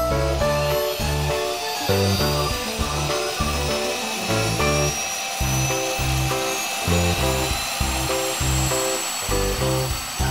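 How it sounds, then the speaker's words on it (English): A loud, steady mechanical whine with rhythmic pulsing throb of an animated hovercraft's turbine running close by, with a rising high-pitched tone. "The hovercraft can zoom over water with its turbine."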